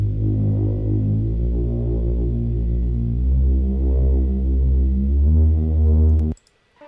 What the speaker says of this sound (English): Also in the breakdown I have this beautiful bass that I made in Diva.